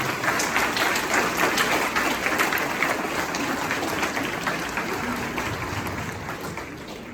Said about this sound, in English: Please join me in a round of applause for our new 7th grade inductees.